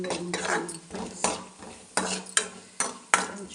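Vermicelli roasting in a pan while being stirred: repeated scraping and clinking of a utensil against metal, with a light sizzle underneath, loud and close.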